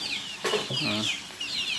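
Two-month-old chicks in a net enclosure cluck and chirp, with a few short calls and a rising squawk close by, no talk over them.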